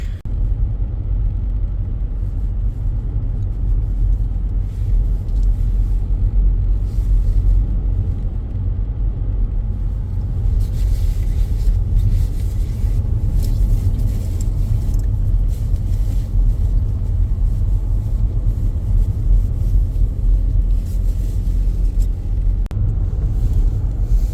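A car climbs a snowy mountain road at high altitude in sub-zero temperatures, its engine a steady loud rumble with road and wind noise throughout, no speech over it.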